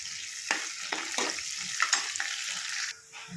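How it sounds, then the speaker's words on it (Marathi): Chopped onion and curry leaves sauté in hot oil in a pan for sambar, giving a steady close-up sizzle broken by several scraping stirs of a spoon against the pan. "आणि कांदा आणि कढीपत्ता छानपैकी परतून घेऊया"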